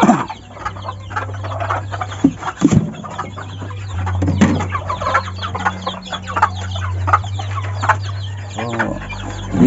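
Bantam hens and chicks clucking nearby with soft peeping chick calls, an irregular cackling chorus over a steady low hum, with some faint human voice in the background.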